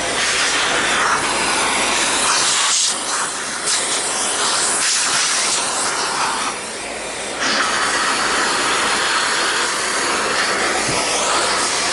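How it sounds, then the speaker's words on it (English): A loud Dyson cordless stick vacuum with its mini motorized tool runs continuously with a strong whooshing hiss, its pitch shifting briefly a few times as the nozzle moves, close by. "we're going to go ahead and vacuum the rest of it off"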